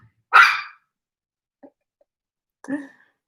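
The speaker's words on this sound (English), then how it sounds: "I wonder if there's some productive use of the barking noise that I haven't discovered." A dog indoors lets out one sharp, loud bark, then a faint small sound and a second, softer bark, separated by silence.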